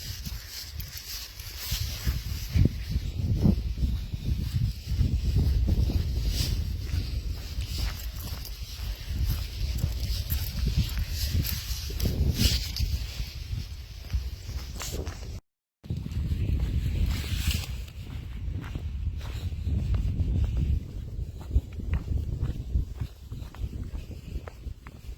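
Hiking boots tramp through mud on a forest trail, a steady run of squelching footsteps under broad wind noise across the whole stretch, with a brief dropout partway through.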